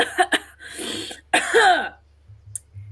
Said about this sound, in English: she just starts like coughing a little bit